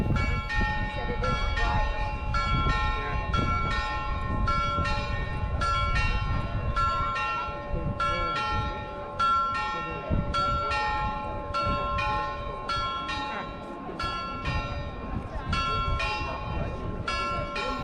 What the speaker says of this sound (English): just in time to hear the beautiful bells of Frauenkirche